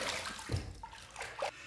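Running water splashes briefly as a razor is rinsed under a tap after a shaving pass with Mitchell's Wool Fat soap, giving short, close, uneven gushes and gurgles over a steady flow.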